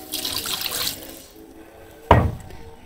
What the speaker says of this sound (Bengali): এখন অল্প একটু জল দিয়ে দেবো